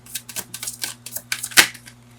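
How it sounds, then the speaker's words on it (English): Tarot cards being shuffled by hand, a quick run of crisp riffling bursts close to the microphone in an uneven rhythm, with no talk over them. "One more shuffle."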